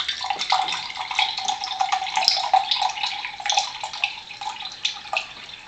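Alkaline water at level one pours steadily from a water ionizer, a continuous close splashing stream of liquid with a bright, even wash of sound and no voices.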